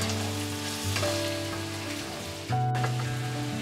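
Ingredients sautéing in ghee for ghee rice, a continuous crackling sizzle with light stirring, steady and close, with a tonal hum in the background and a slight jump in level partway through.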